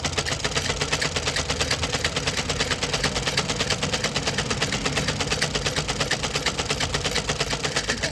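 A sewing machine stitches a pocket onto pajamas, a fast steady mechanical chatter of needle strokes repeating evenly throughout, close and continuous with no speech.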